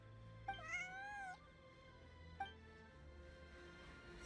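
A cat in the video game Genshin Impact gives two meows, a long drawn-out one followed by a short one, clear and close over quiet background ambience.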